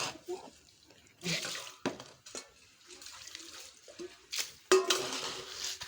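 Pots and dishes being washed with water for breakfast cooking in an African village in Uganda: intermittent splashing, clinks and scrubbing come in bursts with pauses, close and moderately loud, with a voice heard briefly among them.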